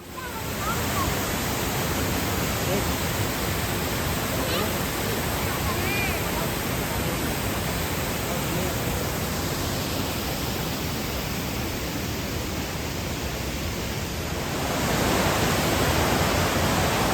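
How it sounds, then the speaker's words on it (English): A waterfall in the Glen stream gorge at Watkins Glen State Park, where the stream drops past tall cliffs, gives a loud, steady, broadband roar of falling water that continues without a break from start to finish. "This is one of the waterfalls."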